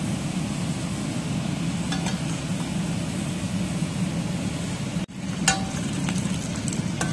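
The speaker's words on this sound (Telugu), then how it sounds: "ఇలా అల్లాన్ని వేయించుకోవాలి" Pieces of ginger fry in a pan with a dense, steady sizzle and crackle. Close and constant, with a brief cut and a few small clinks of stirring.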